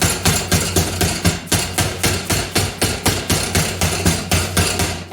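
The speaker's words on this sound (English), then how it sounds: "a hammer helps to make the angle a little sharper" A hammer taps rapidly on a bent sheet-metal edge for a brake cooling duct, sharpening the corner with a steady run of about twenty close, loud, evenly paced metallic blows and no talk.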